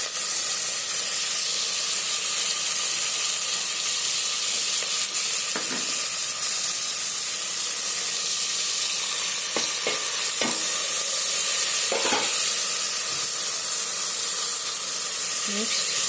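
Tomatoes frying in a pan give a loud, steady hissing sizzle, broken by occasional clanks of stirring up close, with some faint speech in the background.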